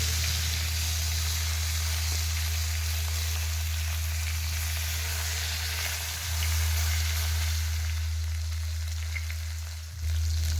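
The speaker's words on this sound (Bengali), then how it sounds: "রুই মাছগুলো ভাজা হয়ে গেছে, এবার একটা প্লেটে তুলে নিচ্ছি।" Pieces of rohu fish fry in oil in a pan, giving a steady, loud, close sizzling hiss over a low hum that runs the whole time without a break.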